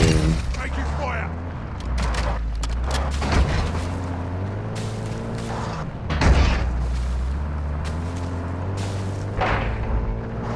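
Gunfire and heavy booms from a Call of Duty match, loud and continuous with bursts and blasts layered over a voice calling out under the battle noise.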